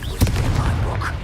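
A Confringo fire spell blast in the video game Hogwarts Legacy bursts out as a sharp, booming explosion near the start, followed by a rumbling tail and other game sounds.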